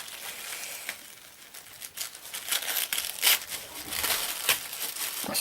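A crinkly plastic package of washi tape is torn and opened up close, with bursts of crumpling and crackling that grow louder and denser toward the end.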